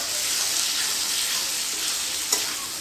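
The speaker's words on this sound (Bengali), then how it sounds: "এখন আবারও খুব ভালোভাবে নেড়ে চেড়ে মশলার সাথে মিশিয়ে নিব" Potatoes and jackfruit seeds are stirred into frying spices in a pan, giving a steady bright sizzle throughout with soft scraping of the spoon and one brief sharper clink near the end.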